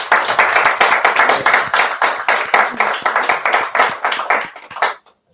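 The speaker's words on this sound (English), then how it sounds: "Can y'all clap, please, for him?" A small audience at a conversation event claps with distinct, close individual hand claps in a loose rhythm. The clapping is fairly loud, then fades quickly and ends in silence.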